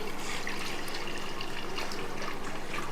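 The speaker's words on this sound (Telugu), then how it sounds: "ఇప్పుడు ఆ గంజి కాస్త ముందు ఇందులో వేసేస్తున్నాను." Hot rice starch water pours steadily into a bowl, a continuous close splashing trickle with no talk over it.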